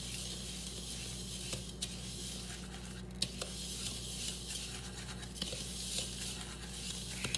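A spoon stirs coconut sugar into cookie batter in a bowl, soft scraping and patting strokes with occasional light clinks against the bowl, quiet and close with no voice.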